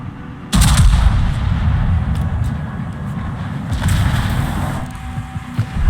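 Main guns of the battleship König Albert in a naval video game open fire with a sudden heavy boom, followed by a long rolling rumble and a second swell of blasts.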